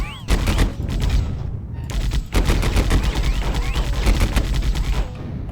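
Enemy turrets in Warhammer 40,000: Fire Warrior fire loud, rapid automatic bursts in two long volleys separated by a brief pause, dense and close.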